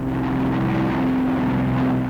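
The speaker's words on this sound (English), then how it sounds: "Day bombers blast coastal installations, continuing the heavy attacks of the night before." WWII bomber aircraft flying overhead during the 1944 D-Day attacks on coastal installations, a loud, steady droning engine hum with a strong low tone, continuous and unbroken.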